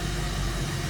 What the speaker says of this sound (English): Sounding like a pretty original 1966 Mercury Comet.